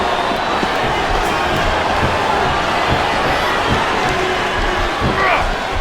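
A dense, steady arena crowd roar backing a wrestler in SmackDown vs Raw 2007 on Xbox 360, loud and unbroken throughout, with a commentator's voice running over it.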